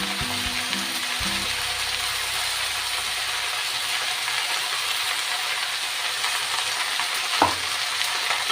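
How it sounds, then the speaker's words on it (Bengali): Mustard greens fry in a hot pan and are stirred, giving a loud, steady sizzle throughout with a low mechanical whir early on and a single knock near the end. "সর্ষের শাক আমি দিয়ে দিলাম।"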